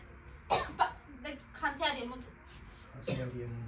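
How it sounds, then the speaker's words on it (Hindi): Several close coughs in quick bursts, mixed with a voice speaking briefly. "खांसी आ रही है मुझे"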